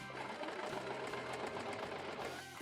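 A sewing machine stitches bodice pieces together with their interlining for a 1970s punk-style ballgown, running at a steady continuous hum throughout with a brief pause and restart near the end.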